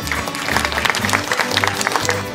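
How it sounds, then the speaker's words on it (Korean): An audience applauds to welcome chairman Park Sang-dae at a children's science expedition launch ceremony, a busy patter of clapping layered over a pulsing low musical backing throughout. "박상대 회장님 한 번 박수로 환영해 주시기 바니다"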